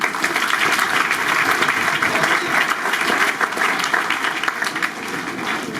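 Dense, steady applause from a coaching-institute audience at a test-series results announcement in Kanpur, a continuous wash of many hands clapping at even loudness throughout with no pauses.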